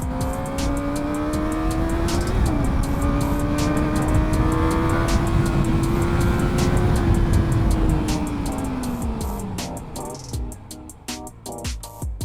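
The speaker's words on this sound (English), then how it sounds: "That was as hard and as fast as I could get that bike to stop." A Kawasaki Ninja ZX-4RR motorcycle engine drones close by, its pitch rising slightly and then falling as the bike brakes hard to a stop, with clicking and tyre noise toward the end.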